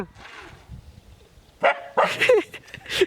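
A dog barks outdoors in a few sharp, close bursts toward the end, after a quieter stretch with faint voices and background noise.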